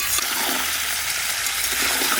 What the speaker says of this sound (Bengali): আমি আলুগুলো একটু ভেজে দিই